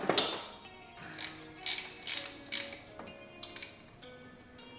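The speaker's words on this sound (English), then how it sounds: "I'm gonna get the wrench and just retighten this." Ratchet wrench retightening bolts on a Garrett turbocharger housing, fitted to a GC8, giving several short bursts of close, crisp clicking separated by brief pauses.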